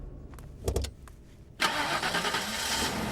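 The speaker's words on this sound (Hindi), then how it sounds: "गाड़ी स्टार्ट कर।" A car engine cranks with a few clicks and short stutters, then catches and settles into a steady, loud running rumble close by, with no speech.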